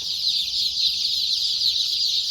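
Egg-laying chickens, including Americanas and olive eggers, cluck and chatter steadily throughout, a dense continuous flock sound at moderate level with no talking.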